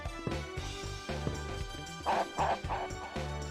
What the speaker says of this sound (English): Still don't know why the hell this thing barks.